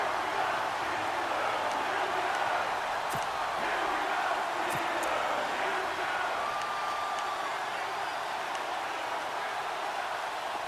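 A Madden NFL 18 stadium crowd swells with a constant, loud cheering roar ahead of a big third down in a football game, with faint sharp clicks scattered through.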